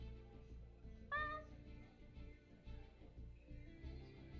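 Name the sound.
pet cat meowing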